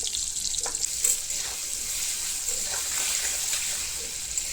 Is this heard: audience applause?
no